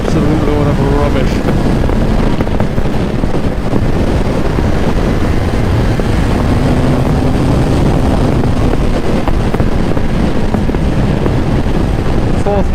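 A Suzuki Hayabusa motorcycle ridden fast, its engine droning loudly and continuously under heavy wind rush across the whole stretch, close to the microphone.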